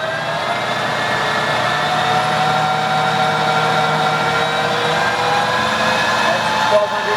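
A Clausing 13x40 variable speed lathe runs steadily in its high speed range, giving a continuous whining hum with layered tonal harmonics and a low mechanical drone, close and even throughout.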